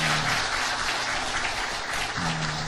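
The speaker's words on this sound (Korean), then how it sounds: "우리 격려 박수 한 번 더 하겠습니다" A church congregation claps steadily for the choir at a Christmas service, a dense, even wash of applause held throughout.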